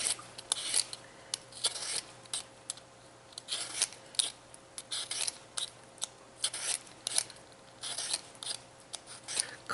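Potatoes being scrubbed clean while making corn potato chowder: close, rhythmic rasping and scraping strokes in short repeated bursts with brief pauses between, with no talking.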